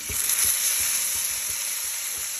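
Ground tomato, ginger and garlic paste sizzles steadily in a hot pan, a close, continuous frying hiss with soft regular stirring scrapes beneath it.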